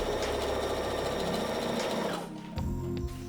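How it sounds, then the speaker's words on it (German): A sewing machine runs steadily and close up while stitching a straight side seam on a pair of summer shorts. The whirring stays constant, then slows and stops near the end. "Da könnt ihr einfach gerade runter nähen"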